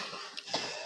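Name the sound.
cough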